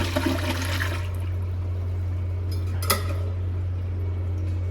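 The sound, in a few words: air blowing out of a toilet bowl through a valve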